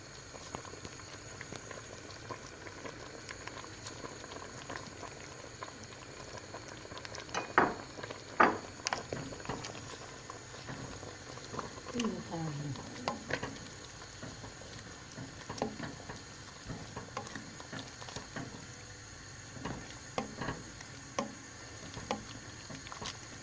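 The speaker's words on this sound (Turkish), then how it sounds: "şu an yine hala tokur tokur kaynıyor" A pot of tomato sauce bubbles steadily on the stove, soft gurgling pops scattered throughout, with occasional faint clinks of a utensil against the pot.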